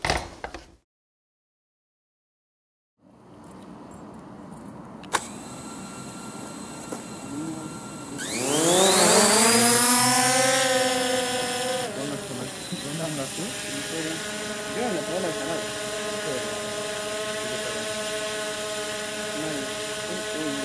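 An SG906 MAX drone with laser collision detection sits silent, then its motors start with a low hum and spool up to a loud, rising tonal whine that settles into a steady, harmonic-rich buzz while flying.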